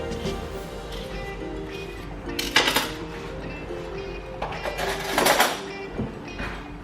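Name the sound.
scooping avocado flesh into a large bowl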